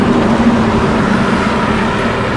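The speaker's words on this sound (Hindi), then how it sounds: "आवाज़ आती होंगी गाड़ियों की।" Road traffic passes by at night outside a roadside stop in India, a steady broad rumble of vehicles going by at moderate distance with no clear single pass standing out.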